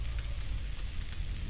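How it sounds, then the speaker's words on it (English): Steady rain in the video game Cry of Fear hisses and patters over a low rumbling background, a continuous wash of falling water with no talking. "Oh, it's raining."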